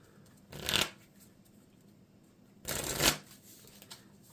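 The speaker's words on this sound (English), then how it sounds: "shuffle my deck after searching it" A deck of Marvel Champions playing cards gets shuffled in two quick riffling bursts separated by a pause, close and fairly quiet.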